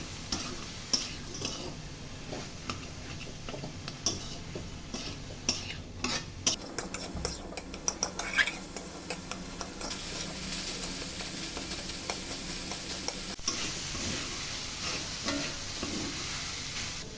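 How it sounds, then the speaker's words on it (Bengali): Minced meat with chopped onion stirred in a hot pan: a persistent sizzle with scattered clicks and scrapes of a utensil against the pan, continuing with no talking. "আধা কাপ পেঁয়াজ কুচি দিয়ে কিমার সাথে ভালো করে মিক্স করে ৪ থেকে ৫ মিনিট নেড়ে চেড়ে ভালো করে জোড়া জোড়া করে ফেলবো"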